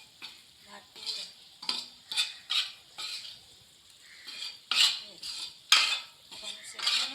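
Chana dal halwa being stirred and roasted in a pan, with a spoon scraping and rasping the thick mixture in steady, repeated strokes over a faint sizzle.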